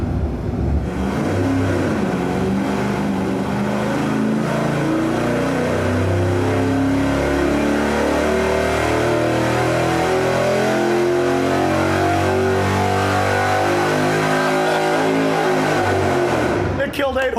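An engine on a dynamometer, fitted with dented exhaust headers, roars at high revs, loud and close, its pitch sweeping up and down continuously for about sixteen seconds before abruptly cutting off.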